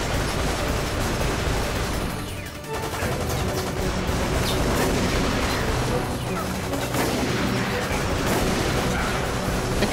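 Gunfire from the video game Resident Evil: Operation Raccoon City, a dense, continuous barrage of loud shots and booms layered over the game's constant noise, with a brief dip partway through.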